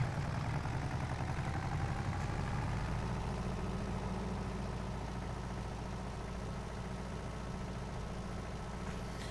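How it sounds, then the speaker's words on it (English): A tractor engine in Farming Simulator 22 makes a low, continuous diesel rumble at a steady pitch, with no clear rise in revs. It sounds close and moderately loud, with no talking. "Wait until the engine spools up."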